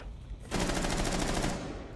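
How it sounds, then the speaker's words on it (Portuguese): A rapid burst of automatic gunfire from the video game Rainbow Six Siege lasts about a second, dense and rattling, then fades to the quieter game background with no speech. "Eu dei dois tiros nessa rodada."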